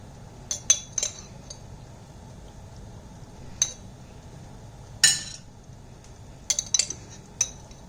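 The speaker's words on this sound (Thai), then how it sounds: "คนให้น้ำมะขามเปียกละลายนะคะ" A spoon stirring tamarind paste into Thai peanut sauce (satay dip), giving scattered sharp clinks of metal against a bowl in short bursts over a quiet background.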